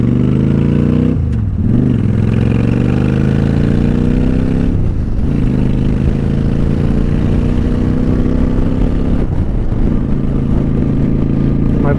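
A Honda Shadow motorcycle engine idles close by with a steady, heavy low rumble that stays loud throughout, dipping briefly at a few moments before settling back into the same even throb.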